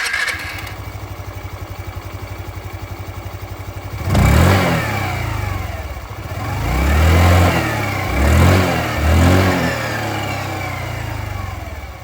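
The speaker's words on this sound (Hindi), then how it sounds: "कैसे लगा आप लोगों को यहाँ पर जूम की आवाज़ ये बिल्कुल बताइएगा" A Hero Xoom 125 scooter engine starts after a quiet idle-like hum, then revs up in several loud, close exhaust bursts that rise and fall before settling back to a steady running note.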